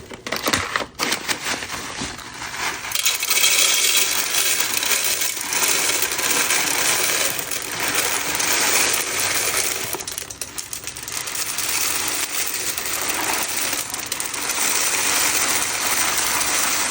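Lomi charcoal pellets pour into a container as a dense, continuous rattling patter of small hard pieces that runs for several seconds after a brief crinkle of packaging.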